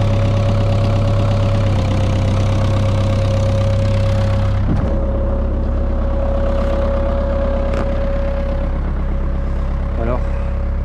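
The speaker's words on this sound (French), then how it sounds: "Donc le tracteur, pourquoi il doit tourner?" A tractor engine idles steadily outdoors at about -8°C, a loud, constant mechanical drone with a steady tone throughout, broken by a brief clunk midway and a few faint clicks.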